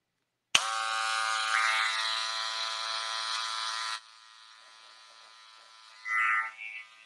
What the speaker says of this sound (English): Magic Clip Cordless Gold Edition.